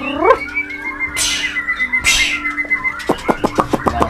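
A white-rumped shama sings a varied run of clear whistles and quick rising notes, close and alone, with a few bright chirps repeated toward the end.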